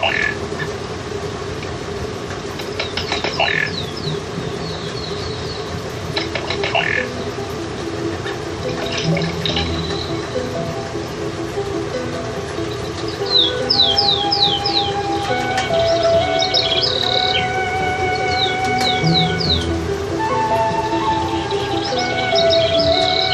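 Water birds such as Chilean flamingos and ruddy ducks call at a wetland, with scattered chirps, honking calls and rapid chattering bursts over a continuous watery background hiss, fairly loud and lively throughout.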